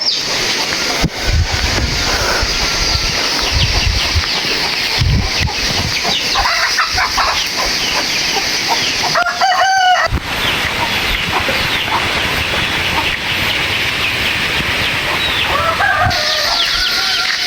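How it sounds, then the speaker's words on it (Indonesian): Chickens cluck across a noisy outdoor scene with wind, while a rooster crows loudly partway through and another crow sounds near the end. "Di sini juga banyak ayam sama bebek ya."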